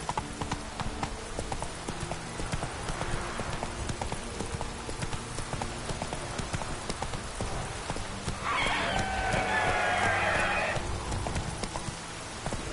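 Horse hooves clip-clop at a steady riding pace in a PS4 video game, a continuous rhythmic patter over game ambience, with a brief brighter rushing sound partway through.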